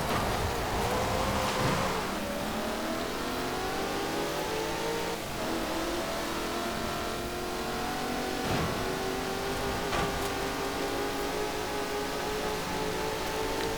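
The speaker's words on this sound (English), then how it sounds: "Brute force of my V8 overwhelms the lesser cubic capacity Volvo and Insignia" V8-powered car accelerating hard in a Forza Horizon 4 seasonal championship race against all-wheel-drive rivals, a loud continuous engine roar with rising pitch through gear changes, no talk.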